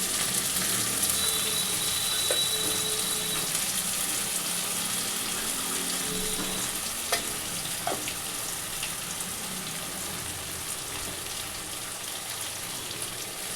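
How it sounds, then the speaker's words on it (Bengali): Water from a rinsed bowl hits a hot pan of stalks and potatoes with poppy seed, giving a steady, loud, even sizzle that fills the whole stretch with no voices. "এই বাটিটা ধুয়ে একটু জল দিলাম।"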